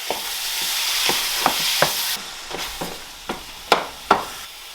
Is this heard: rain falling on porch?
no